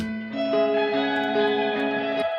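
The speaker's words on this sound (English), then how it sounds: "I just added a Valhalla, which really gives it the reverb sort of sound" A sung a cappella vocal line fed through an amp and drenched in a Valhalla reverb plugin, sustained tones stepping between notes with a wide, washy echo tail filling the space.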